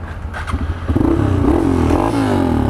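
A motorcycle engine idles low and then revs up, its steady drone growing louder and holding near the listener.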